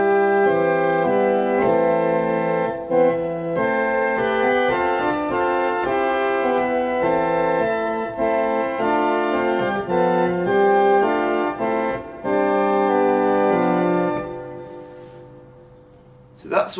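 A church organ plays phrases of the hymn tune Abbot's Leigh in sustained, smoothly moving chords at a moderate pace, then a short breath or noise at the very end.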